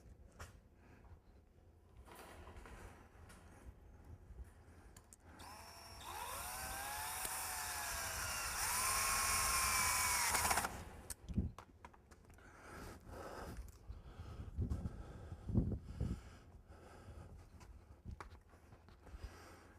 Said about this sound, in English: Put your screw in at an angle, and it'll help draw your wire tight as you go.